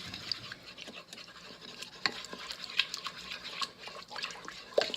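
A spoon stirs low-sodium soy sauce and water in an Instant Pot on saute, soft swishing liquid with a few light clinks against the pot, quiet and close, with no voices.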